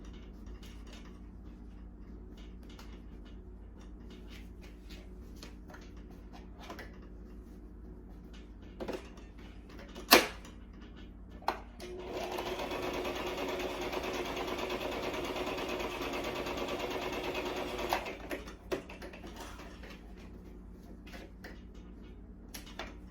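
A sewing machine stitching necktie fabric runs in a steady whirring burst of several seconds, preceded by soft clicks and handling sounds and a sharp knock, fairly quiet and close.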